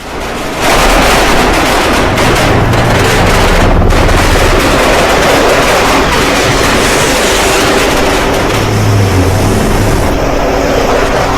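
Rapid automatic gunfire from a US warship firing on an Iranian ship rattles on almost without a break, loud and harsh over a dense roar.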